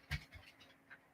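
A dog named Kenzo, one that bites people, panting faintly at home, a few soft breathy puffs over quiet room noise with no talk.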